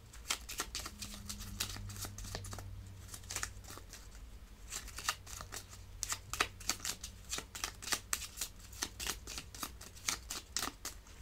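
Tarot cards being shuffled for a reading: a close, steady run of quick riffling and papery flicks that carries on for about eleven seconds with brief pauses, and no talking.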